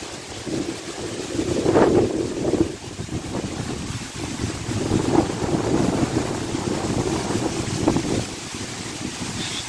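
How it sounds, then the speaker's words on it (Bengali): Strong gusting wind roars steadily during a Kalboishakhi storm in Gaibandha, loud and broadband, rising and easing in surges over about ten seconds with no voices. "চারদিকে প্রচন্ড বাতাস বইছে।"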